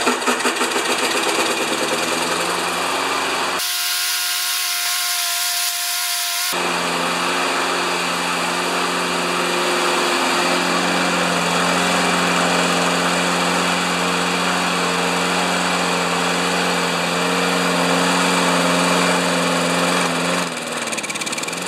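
An older Turf Power lawn mower with a Briggs engine runs at a steady idle, a close, continuous buzzing drone with a brief interruption early on and no talk.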